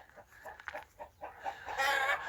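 Turkeys and chickens wintering on a farm in deep frost around minus seventeen give a string of short, close clucks and squawks that build toward a louder burst of calls at the end.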